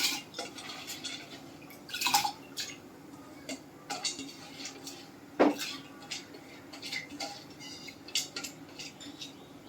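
A cooking pot and metal utensils clink and scrape on a gas stove as toor dal is put on to cook, with scattered light taps and a few sharper knocks at moderate, close range and no talking.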